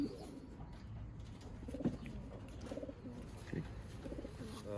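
Racing pigeons cooing softly in a loft, several low, throaty coos repeating at intervals with faint background rustle.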